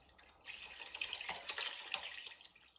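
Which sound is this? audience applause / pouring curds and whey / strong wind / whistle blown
pouring curds and whey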